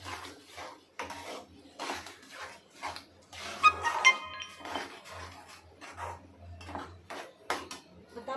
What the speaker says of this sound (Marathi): अजूनही थोडं पातळ आहे, त्यामुळे आपण असंच हलवत गॅस चालू ठेवणार आहोत.